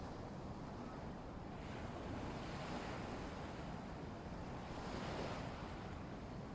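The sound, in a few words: gentle ocean waves lapping the shore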